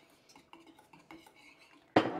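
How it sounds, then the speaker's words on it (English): A whisk clinks repeatedly against a pot as milk is stirred into an egg chowder, soft irregular metallic taps followed by a louder clatter at the end. "So we're going to whisk this in like that."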